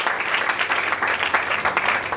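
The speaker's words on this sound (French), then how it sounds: "Est-ce qu'on peut acclamer pour le Seigneur?" A church congregation bursts into sustained applause for the Lord during a French-language sermon, dense overlapping clapping from many hands filling the room evenly throughout.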